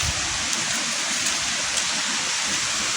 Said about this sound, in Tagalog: kasi malakas yung ulan, baka bumaha